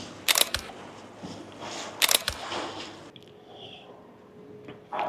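A Nikon Z8 camera shutter fires in a few sharp, close clicks, two quick pairs near the start and another around the two-second mark, over soft ambient street noise.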